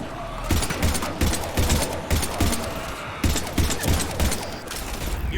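Mass Effect 3 gunfire: rapid, loud, repeated bursts of shots in a steady irregular rhythm over about five seconds, with mechanical clatter between the bursts.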